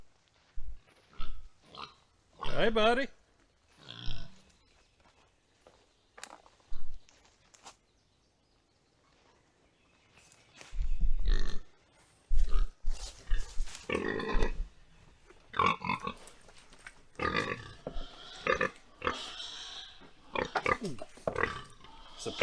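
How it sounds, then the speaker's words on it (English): Hereford hogs on a homestead give scattered bursts of grunts and oinks, loud and close at times with quiet gaps between, and a man briefly greets them. "It's a pig's paradise out here."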